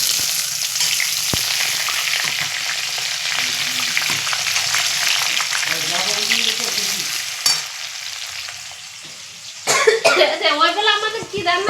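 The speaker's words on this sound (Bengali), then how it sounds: "তেলটা গরম হয়ে গেছে, তেলটা দিলাম, এবার পেঁয়াজটা দিয়ে দিলাম" Chopped onions dropped into hot oil in a pan fry with a loud steady sizzle and stirring, joined by a cough and throat clearing, then voices talking near the end.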